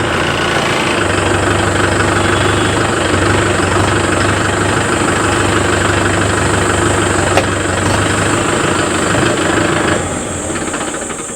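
Mahindra Yuvo Tech+ 585 DI tractor, a 50 hp diesel, running at a steady loud idle close by, a continuous rattling drone that eases slightly near the end.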